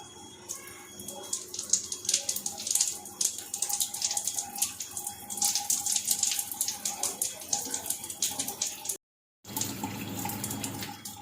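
An Enagic Kangen water ionizer dispenses strong acidic water in a steady, close stream like a running tap, which stops briefly near the end and then resumes.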